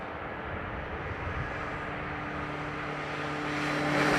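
Airplane landing at Dublin Airport, a steady broad engine and airflow roar with a faint tonal whine, gradually swelling louder toward the end, heard from a distance without talk.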